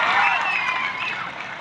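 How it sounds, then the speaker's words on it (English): Audience clapping after a speech at ASRAM Medical College, a dense, bright burst of applause that stays strong and even throughout the short moment, close and filling the hall. "Big round of applause, please."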